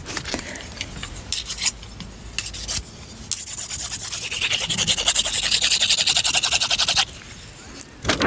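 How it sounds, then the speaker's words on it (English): Close, scratchy rubbing and rasping of chopsticks on a Blue Yeti microphone, irregular at first, then a steadier run of rapid scraping before dropping back to sporadic rubs. "now I have these chopsticks that I used in a video"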